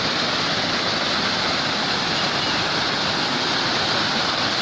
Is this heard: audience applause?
no